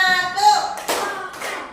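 Group hand clapping in a classroom ice-breaking clap game, a couple of sharp claps in unison ringing out close and loud after a teacher's voice.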